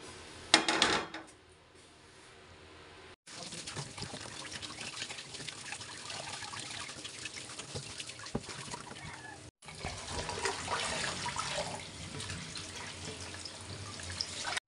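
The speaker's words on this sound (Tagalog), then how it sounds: "hugasan na natin ang ating pata" Raw pork hock for pata tim rinsed under a running kitchen tap: a steady stream of water splashing over the meat, briefly stopping and restarting, with a few clatters near the start.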